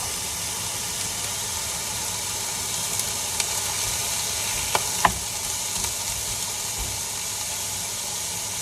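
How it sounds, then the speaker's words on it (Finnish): Lean ground beef, 10% fat, frying in an unoiled pan, giving a steady close sizzle throughout with a few faint clicks of stirring and no talk. "Niin näkee, kun paistan jauhelihaa."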